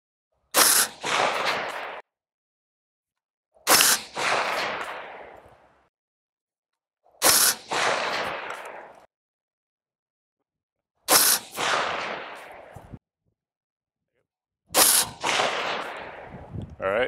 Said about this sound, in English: We have some Remington 223 in there, and we'll see what we get.